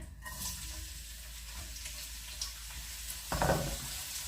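Quiet sizzling of onion frying in a hot pan, a soft crackling hiss with a few louder spits and a brief burst of stirring near the end.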